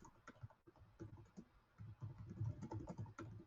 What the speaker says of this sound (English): Can you hear my typing?